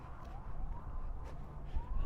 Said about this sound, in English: I hear one siren, though.